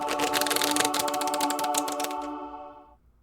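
A deck of playing cards riffle-shuffled by hand at a card table, a dense, fast flutter of card edges lasting about two seconds before it tapers into silence. No talk is heard.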